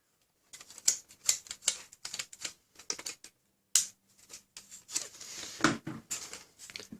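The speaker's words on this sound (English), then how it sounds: "So let's start the shaving. I think the cutter knife is gonna be enough for this thing." A cutter knife shaves a plastic Nerf Rival Finisher blaster shell in short, sharp scraping strokes, close and crisp, coming in irregular bursts separated by brief pauses.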